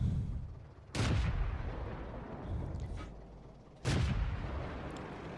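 Two heavy tank cannon shots boom in World of Tanks, each a sudden loud blast with a rolling low-frequency tail, spaced about three seconds apart over a continuous rumbling game background.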